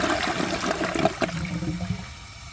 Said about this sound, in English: it completely misses the majority of the back when it flushes